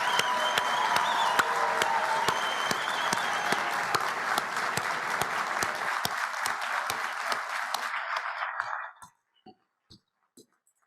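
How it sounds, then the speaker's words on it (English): Audience applause for students at a DPT white coat graduate ceremony, a loud sustained round of many clapping hands that thins out and fades to a few last scattered claps near the end. "Let's have one more great round of applause for these students and their accomplishments."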